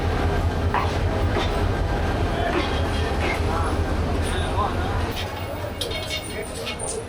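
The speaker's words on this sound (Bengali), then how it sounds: "প্রায় 6 মিনিট বিলম্বে জামালপুর এক্সপ্রেস ময়মনসিংহের 2 নাম্বার প্ল্যাটফর্মে প্রবেশ করলো।" The Jamalpur Express rolls into platform 2 at Mymensingh railway station at night, a loud, steady rumble with wheel clatter and metallic squeals that eases toward the end, while someone talks over it.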